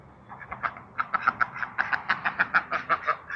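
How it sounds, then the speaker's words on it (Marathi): Ducks quack outdoors at a roadside garden in a rapid, repeated series of nasal calls that grows steadier and louder, with no talking. "हे बघा, छान छान असे बदक आहे तिकडे."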